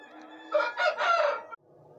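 A Faridkoti rooster, an old Pakistani breed, crows once loudly and close by, a single drawn-out call of about a second that stops abruptly, followed by quiet farmyard background.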